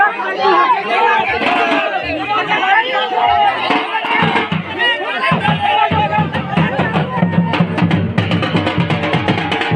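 A large crowd at a Diwali festival gathering fills the air with dense, overlapping chatter and babble. Several voices sound close by, and the hubbub stays fairly loud throughout.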